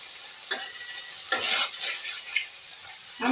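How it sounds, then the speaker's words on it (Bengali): Tender drumstick stems fry in a pan for a vegetarian curry, a soft continuous sizzle broken by a few scraping stirs, heard close with no talking. "এইভাবে আমি এটাকে একটু সময় ভাজা ভাজা হতে দিলাম"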